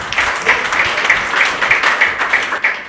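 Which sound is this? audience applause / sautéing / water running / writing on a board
audience applause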